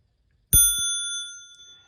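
A single chime struck on a 1936 Ingraham strike clock, Model SSD1: one sharp metallic hit with a low thump, then several pure ringing tones that hold and fade slowly over about a second and a half, heard alone and close.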